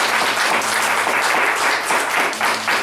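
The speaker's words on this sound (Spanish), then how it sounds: "Y les quiero pedir que lo recibamos con un caluroso aplauso." At a book presentation, the audience gives warm, sustained applause, many hands clapping in a full, even roar throughout.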